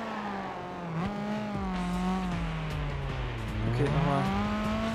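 A rally car engine in the Gran Turismo video game drones and revs steadily, pitch rising and falling through gear changes and turns, with tire squeal, as someone speaks briefly over it.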